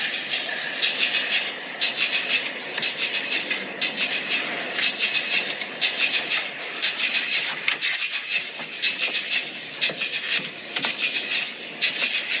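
Inside the compartment of a moving commuter train in a comedy sketch, a continuous rumbling rattle rolls on with faint rhythmic clacks, steady and moderately loud with no voices.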